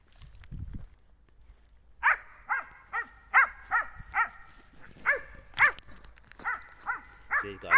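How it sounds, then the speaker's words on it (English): At near midnight a dog barks outdoors in a quick run of loud, sharp barks, about a dozen in six seconds, after a quiet start with faint rustling. "I can let him bark now at near midnight"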